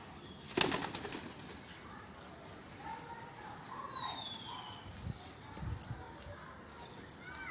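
Pigeons coo softly over a steady outdoor background, with a brief burst of wing flapping near the start and a few scattered knocks later.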